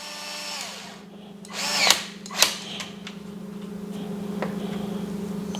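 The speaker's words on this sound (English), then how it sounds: "And go ahead and drive your screw in." A power drill drives a screw into an aluminum lower trailing arm mount, whirring steadily at close range with a couple of sharp clicks and a slight speed change partway through.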